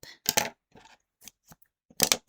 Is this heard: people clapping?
no